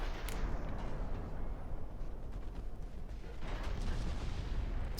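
Naval gunfire in the warship game Ultimate Admiral: Dreadnoughts rolls as a heavy, continuous low rumble, with distant booms near the start and again toward the end.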